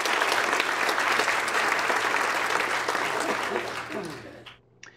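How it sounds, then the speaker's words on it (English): Sustained audience applause at a pet podcast event, dense and steady for about four seconds before tapering off and fading out near the end. "Let's give Marilyn a big round of applause."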